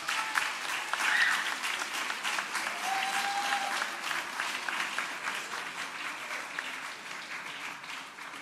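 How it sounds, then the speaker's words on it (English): Sustained audience applause at a Malcolm X Day event as a speaker is welcomed to the stage, a steady, dense wash of many hands clapping that holds evenly for several seconds and tapers slightly at the end, with no talk over it. "Let's give him a round of applause."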